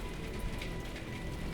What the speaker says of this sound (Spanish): la lluvia empezó a golpear con más fuerza el techo de la estación